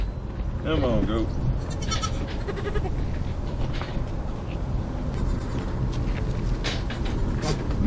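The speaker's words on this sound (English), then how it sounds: "Come on, goat." A farm goat bleats loudly and close by at milking time, a wavering cry early on with more bleats after it, over a noisy background and with people talking nearby.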